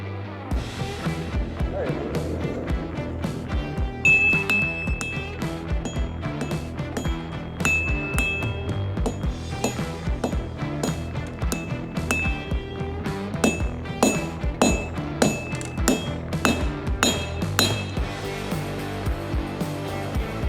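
Hammer blows ring out as knife steel is forged on a VEVOR 30 kg anvil, a steady series of sharp metallic clinks and pings repeating throughout at a close, loud level.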